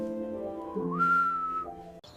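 An African grey parrot whistles a cheerful tune, a clear melodic whistle holding and shifting pitch over a couple of seconds, close and alone.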